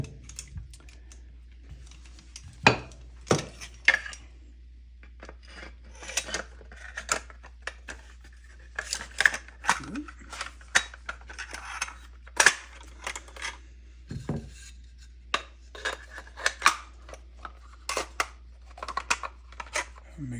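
Small metal parts of a 1944 Quality Hardware M1 Carbine click, tap and scrape together during reassembly, with sharp intermittent clacks and light rattles at close range, while a voice speaks quietly now and then.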